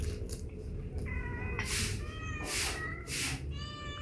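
Several cats meow outdoors at a home: a run of distinct, fairly close meows, some overlapping, over a low background rumble.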